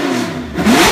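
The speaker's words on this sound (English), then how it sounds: "He even started and revved the Tyrrell and Ferrari for us." Vintage Formula 1 cars, a Tyrrell and a Ferrari 312 T4, rev loudly nearby, the engine note rising sharply in a brief, deafening burst with no talking.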